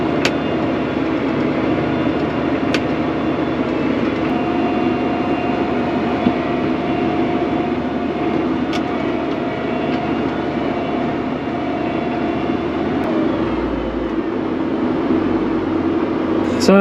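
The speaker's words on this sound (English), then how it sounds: "you just let your foot off the brake and it goes" A John Deere 8370RT tractor with an E23 power shift transmission drives along with a steady, loud engine drone and cab rumble. A few faint clicks sound over it.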